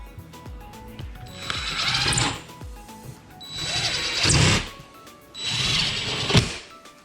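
Short screws driven into a black iron pipe shelf with a power driver, three bursts of whirring and clicking separated by short pauses, close and fairly quiet.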